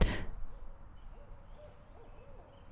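Owl hooting in a park, a series of soft, low calls spread across the clip over quiet outdoor ambience, with a brief burst of noise at the very start and no voices.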